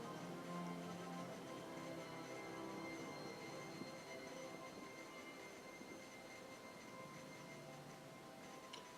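Transit train in the Star Citizen video game, a steady rolling rumble with sustained metallic whine and squeal, continuous and fairly loud throughout, no talking.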